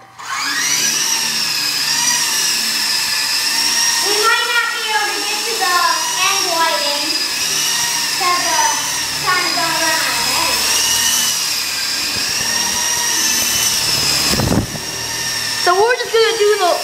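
A Double Horse remote-controlled toy helicopter flies in the dark with a loud, steady electric whine whose pitch rises and falls. Voices talk over it throughout.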